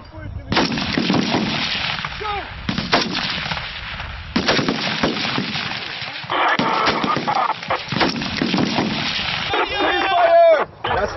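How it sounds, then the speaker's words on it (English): Five rifle shots fired at a Marine Corps boot camp firing range, each a sharp loud crack with echoing tail, spaced irregularly, with faint voices and range noise between them. "Five well aimed shots."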